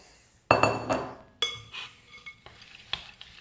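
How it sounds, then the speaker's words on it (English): Biscuits are stirred into melted chocolate in a bowl for rocky road, a few close, distinct clinks and scrapes of a spoon against the bowl with short pauses between. "mix our biscuits, as you can see, straight in to the chocolate"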